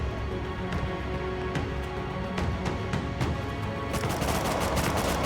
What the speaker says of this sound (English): A couple of defenders there getting shot from the attackers down the bottom.